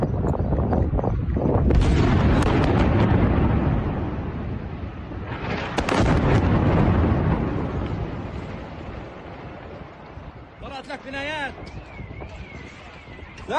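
Heavy rumbling blasts from a small-diameter precision bomb airstrike and collapsing buildings in Beirut roll through in two long waves. Faint voices are heard near the end.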